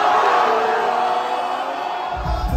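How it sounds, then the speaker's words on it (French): Concert crowd at the Elysée Montmartre roars, cheers and applauds the first guest, a loud dense wall of shouting and clapping that eases slightly toward the end. "Vous fassiez un tonnerre d'applaudissements à mon premier invité."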